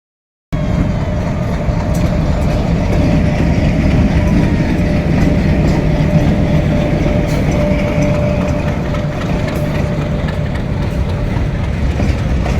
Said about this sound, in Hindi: आप देख रहे हैं कि ये मालगाड़ी गुजर रही है